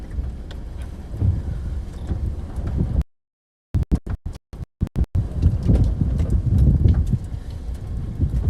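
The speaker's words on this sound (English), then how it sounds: "Oh, hail's coming down." Hail clatters down during a Kansas/Nebraska tornado-threat storm, a dense rattling patter broken by a few seconds of dropout and choppy cut-outs before the pounding resumes, loud and close.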